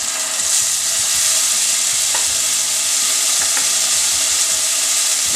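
Garlic and ginger fry in hot oil with browned onions for an Indian gatta curry, a loud, continuous sizzle broken by occasional stirring scrapes and taps.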